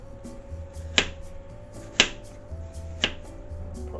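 Knife slicing through fruit on a cutting board, three crisp evenly spaced chops about a second apart over a low hum, no voices.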